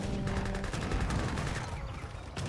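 Needle Gunner volleys rattle in an Age of Empires 3 battle as dense, overlapping musket fire in a steady crackling barrage, loud and continuous amid other battle noise.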